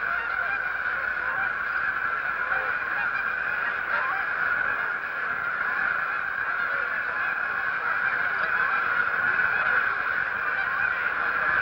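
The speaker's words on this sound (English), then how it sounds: "Visitors are thrilled by the sight of thousands of wild Canada geese on the ground and in the air as Jasper persuades them to perform." A large flock of wild Canada geese honks continuously in open country, a dense overlapping chorus of calls at steady volume with no pauses.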